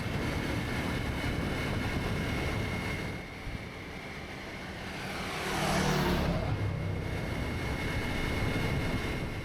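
A Ducati Multistrada V4 motorcycle rides up a mountain road in Croatia, its steady engine drone buried under heavy wind rush, swelling briefly louder midway as it passes.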